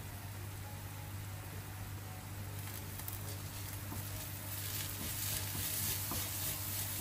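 Salt-seasoned food sizzles in a hot pan as it is stirred, giving a quiet, steady hiss with faint scraping that swells slightly toward the end.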